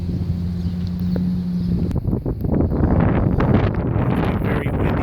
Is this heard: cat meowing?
no